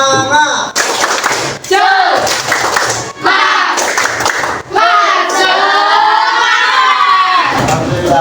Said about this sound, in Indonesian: Kita tepuk semangat dulu deh